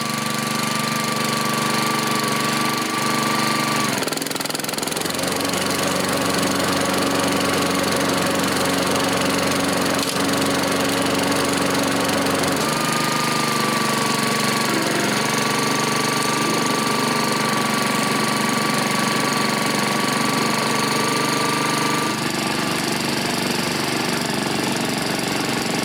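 A Honda HRX 217 walk-behind lawn mower engine running steadily after the choke is switched off, a loud, close, continuous drone that shifts pitch a couple of times as the speed changes.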